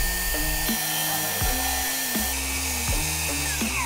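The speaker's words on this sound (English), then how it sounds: "skill saw. I'm gonna cut a slot right there at the bottom." A handheld skill saw cutting a slot into a board for a hockey pass rebounder, its motor whining loudly and steadily while the pitch dips several times as the blade bites into the material.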